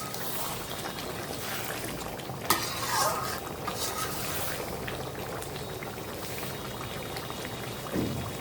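Beef curry with potatoes is stirred and fried in a pot, giving a steady close sizzle and bubbling with scraping spoon strokes and a couple of sharper clanks against the pan.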